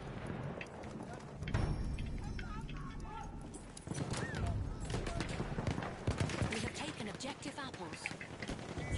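Horse cavalry in a World War I shooter video game gallop past with busy clip-clopping hooves and an occasional whinny, mixed with scattered gunfire and voices talking throughout.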